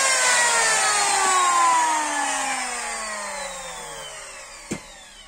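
An old Japanese-made electric wood planer spins and then winds down, a loud whirring whine whose pitch slides steadily lower as the motor coasts, ending with a short knock.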